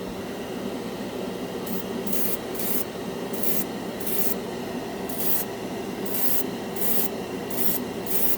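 A cheap Harbor Freight airbrush sprays thinned paint in short repeated hissing bursts, bright spurts starting and stopping in an irregular rhythm over a low steady hum.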